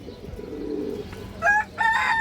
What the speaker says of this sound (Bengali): এটা একটা সাদা আর্মি কবুতর